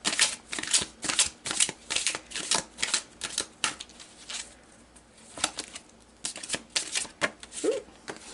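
A deck of tarot cards is shuffled up close, giving repeated quick riffling bursts in an uneven rhythm with short pauses between them.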